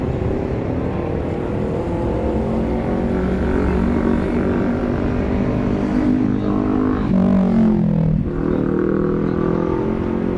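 A jet airliner on final approach to runway 18 right at DFW airport at night, a loud steady engine roar that holds throughout and swells slightly near the end, with no voices.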